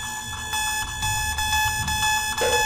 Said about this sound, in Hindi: अलार्म तो चालू हो गया।